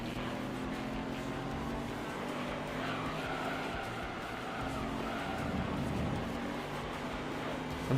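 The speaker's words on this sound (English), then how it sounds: "I'm hearing a lot of tire skids" Racing cars in the video game Gran Turismo 3: A-Spec whine and roar continuously while tires screech and skid under the engine noise, a steady busy mix without speech.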